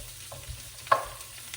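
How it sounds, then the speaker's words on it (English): Leeks sauté in a hot pan with a soft, continuous sizzle and a brief clink of a utensil stirring partway through, close and fairly quiet, with no talking. "So we've got some nice sauteing action going on here"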